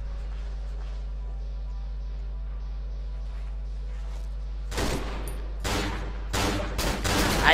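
Gunfire in the horror video game Cry of Fear: a low steady hum gives way to several loud, broadband bursts of shots in quick clusters near the end, with no talk.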